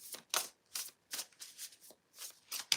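Tarot cards are shuffled close up in quick riffled bursts, about nine short rustling flurries separated by brief pauses.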